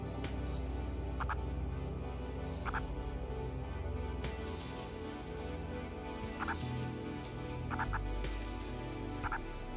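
Purple frog calls sound as a repeated pulsed croaking in short bursts, several spread across the span, set against a dense steady background of other animal sounds and noise with no talking.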